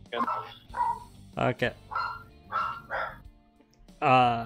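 A dog barks and yips repeatedly in a series of close, sharp barks indoors, with a person speaking briefly.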